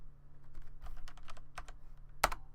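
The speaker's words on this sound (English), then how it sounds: "Maybe I can do it with my keyboard." Several scattered keystrokes on a computer keyboard while a game hangs, closing with one sharper, louder key press near the end over a low steady hum.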